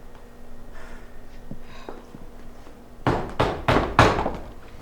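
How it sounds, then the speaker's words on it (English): Knocking on a door during a stage performance of Macbeth: after quiet room tone, four loud, resonant knocks land about half a second apart in a steady rhythm. "Whence is this knocking?"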